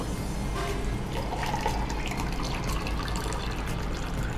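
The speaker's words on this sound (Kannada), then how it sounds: "ಸೊ ನೀರು ಹಾಕ್ಲಾ?" Water poured into a container while making amla juice, a steady close splashing and trickling rush that runs unbroken and fairly loud throughout, with no talk.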